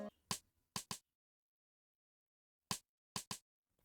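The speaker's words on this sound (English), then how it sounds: "Then from the bongo we have this it's a rim shot" Rim shot drum sample in an Afrobeat beat, sharp dry cracks in two clusters of three, each a quick single crack followed by a fast double, separated by a long silence, heard alone.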